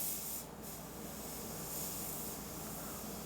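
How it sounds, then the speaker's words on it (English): An airbrush sprays paint onto a skull artwork, a faint steady hiss that holds evenly throughout with no voices. "I've struggled at times with getting this airbrush to spray on a consistent basis"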